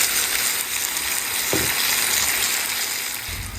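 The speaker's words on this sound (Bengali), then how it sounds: "আজ সামান্য তেল দিয়ে চাল কুমড়োটা ভেজে নিলাম।" Ash gourd fries in a little oil, a continuous close sizzle with a brief stirring scrape partway through and no voices.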